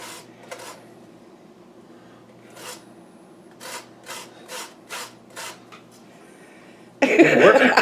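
Lemon zest grated on a small grater in quick rasping strokes, a short burst followed by a rhythmic series of about six scrapes, close by, then a louder rustling clatter at the end.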